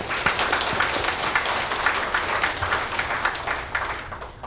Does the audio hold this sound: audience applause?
yes